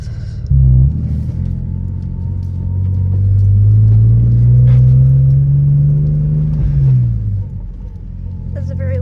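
A BMW E46 fitted with a ZF 5-speed manual transmission is driven in gear, and a steady tonal whine rises and holds over the low engine rumble before dropping away near the end.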